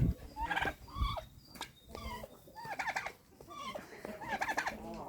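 Farmyard turkeys, a tom among a flock of hens, gobble in repeated rapid warbling bursts, fairly quiet and somewhat distant, with no voices over them.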